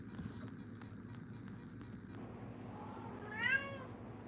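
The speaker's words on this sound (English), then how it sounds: "Mama Cat." A mother cat gives a single clear meow near the end, preceded by soft indoor noise and faint movement.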